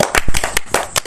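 A group of children in a tuition class clap their hands in quick, sharp bursts, about a dozen loud, close claps in an uneven rhythm.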